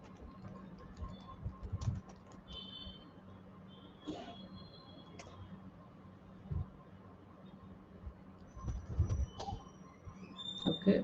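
Keys clatter on a computer keyboard in bursts of quick, light taps, some louder clusters near the end, over a low steady background hum with no clear voice.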